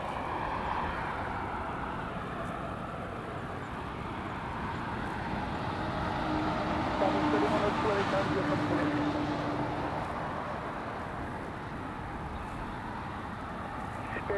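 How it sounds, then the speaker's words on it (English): A Spirit airliner touches down at LAX, a broad, steady jet roar that swells slightly in the middle and fades, heard from a distance with no voices. "A little hop on touchdown for Spirit."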